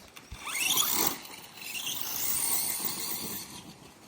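A brushless Traxxas Stampede 2WD RC truck runs at full throttle on a 3S battery, its motor whining and rising in pitch, with a squealing surge near the start and a steady high drone after it.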